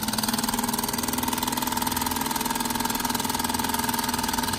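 A 35-year-old Mamod model steam engine runs hot, giving a steady, even mechanical hum with fine, rapid regular chuffing that holds at a constant level throughout, with no talking.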